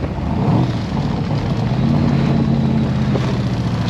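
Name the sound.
AC Cobra car engine while driving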